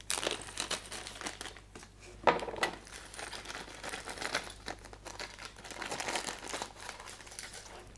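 A small plastic bag holding electronics parts, a breadboard and jumper wires, is handled and opened, giving steady faint crinkling with a few sharper rustles close by.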